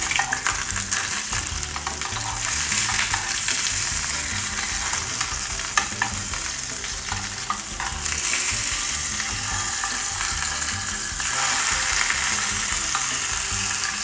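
Fish sizzles and spits steadily in hot oil inside a graphene non-stick container, a dense, bright crackle that holds unbroken and close for the whole stretch with no voices.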